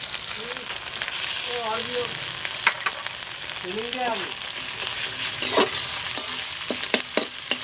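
Cumin and coriander paste sizzles in hot oil as it is stirred into a duck curry, a steady frying hiss broken by scraping stirs and soft clatters. Voices talk faintly in the background.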